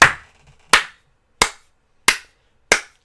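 Four slow, deliberate hand claps ring out one by one, loud and close, evenly spaced with silence between.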